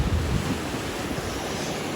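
Ocean waves break at a Caribbean surf spot, a steady broadband roar of surf with wind buffeting the microphone throughout and no talking.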